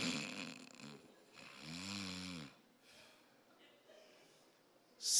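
A man imitates a sleeping husband's snoring with his voice, giving a couple of rasping, rattling snores between quiet breaths, close and fairly soft.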